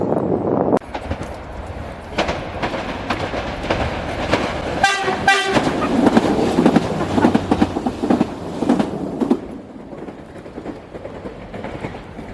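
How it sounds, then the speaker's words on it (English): A British Rail Class 755 train rumbles and clatters nearby, arriving from Lowestoft, and partway through a short two-tone horn honks out over the rolling noise. "Little honk there off of 755 421 coming in from Lowestoft"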